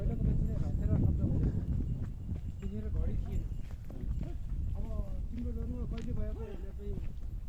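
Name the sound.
horse walking at Rara Lake, Nepal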